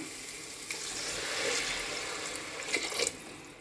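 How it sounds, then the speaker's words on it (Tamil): Tamarind water poured into a pan of frying, oil-separated masala for sardine curry gives a soft wet pour and a low sizzle, rising briefly near the end, with no talking. "இப்போ புளி தண்ணியை ஊற்றிக்கலாம்."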